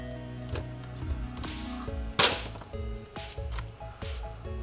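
A Nerf Modulus Shadow ICS-6 blaster being primed: a loud sharp plastic snap midway with a whoosh of slide movement, among softer clicks and rattles of handling, close-up over a faint background hum.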